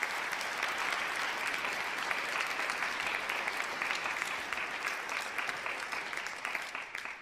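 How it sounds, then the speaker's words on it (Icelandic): An audience at a concert gives a hearty round of applause for two young performers, steady massed clapping that holds strong for several seconds before slowly thinning toward the end. "Skulum gefa þeim gott klapp."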